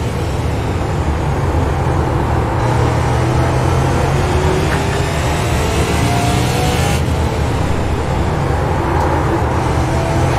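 Super late model race cars lapping a short oval track in a RAID Super Late Model Tour race, a dense, loud, continuous engine roar with rising and falling pitch as cars pass, with no talk over it.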